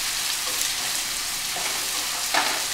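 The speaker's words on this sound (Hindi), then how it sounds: "और इसको थोड़ा जल्दी जल्दी हिलाएंगे जिससे कि हमारे प्याज लग न जाए और डार्क ब्राउन हो जाए।" Onions and crushed ginger sizzle steadily in a hot pan while being stirred quickly, a continuous loud frying hiss with a few soft scrapes of the spoon, no voices.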